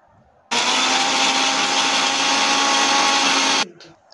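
Mixer grinder blending green chilies, curry leaves and ginger-garlic paste into a fine paste for masala poori, a loud steady whirring motor roar that starts abruptly, runs about three seconds and cuts off, close and alone.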